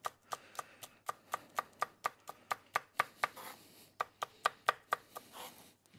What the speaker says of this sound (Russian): Теперь я режу зеленый лук.